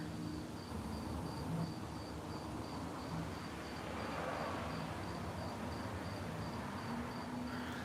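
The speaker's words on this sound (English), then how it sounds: "I can hear all the crickets out here" Crickets chirp outdoors at night in a steady, pulsing trill that repeats evenly throughout, moderately distant, under a low hum of background noise.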